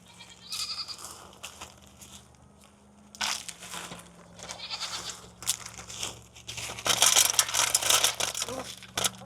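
Goats bleat in short bursts while being fed fresh frozen corn, with crunching and rustling of the feed between calls, a low steady hum underneath and some brief talk.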